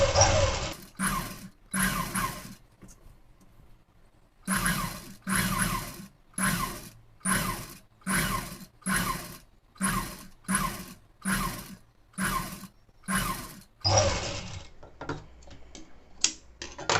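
A sewing machine stitching lace trim onto a blouse: over a dozen short, rhythmic bursts of rapid clattering, close and fairly loud, separated by brief pauses.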